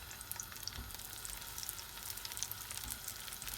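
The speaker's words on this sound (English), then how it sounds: "We're going to pan fry this evenly on both the sides." A vegan lentil patty pan frying in a skillet, giving a steady close crackling sizzle with fine spitting pops throughout and no voices.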